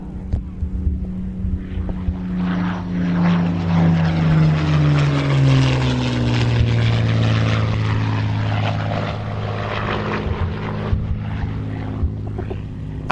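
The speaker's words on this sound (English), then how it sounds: "I think we need another one, and here it is. And this one is the Suffolk Spitfire." Supermarine Spitfire in American markings flying past at an airshow, a loud throbbing piston-engine drone with propeller hum that rises and falls in pitch as it passes overhead, steady throughout.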